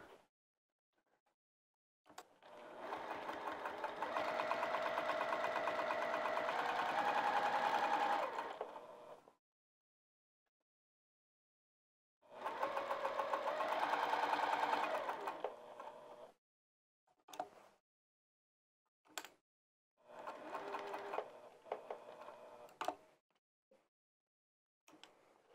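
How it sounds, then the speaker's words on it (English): A sewing machine stitches down a fabric bag in several bursts: one long run, a second shorter run, then a few brief stitches with quiet pauses between them, close and steady. "Now let's sew it down."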